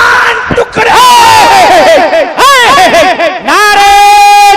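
A large crowd at a religious gathering chanting slogans in loud, sustained unison shouts, rising and falling in waves with a leader's calls, close and powerful.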